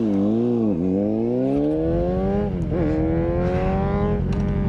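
A Yamaha XJ motorcycle engine revs up loud and close, its pitch falling briefly, then climbing steadily, dipping twice on gear shifts and rising again with a continuous harmonic whine, no talk.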